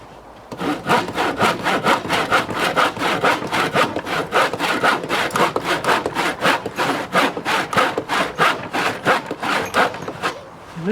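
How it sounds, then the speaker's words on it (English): A handsaw cuts a wooden board outdoors during roof work on an off-grid property, with close, loud rhythmic rasping strokes repeating steadily, about three per second, for the whole stretch. "This is what you'd do if you had a handsaw and didn't have a power saw, and you got to figure out a way to get your board cut."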